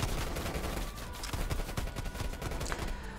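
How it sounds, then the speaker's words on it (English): Dense gunfire in Call of Duty: Black Ops Cold War prop hunt, with rapid overlapping shots and bursts firing steadily throughout and no talk over them. "everyone seems to want to shoot each other"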